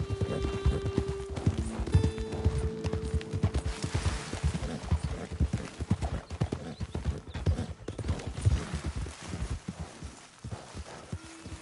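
Horse hooves clip-clop in a steady walking rhythm in the video game Red Dead Redemption 2, close and fairly soft, with a low rumble underneath.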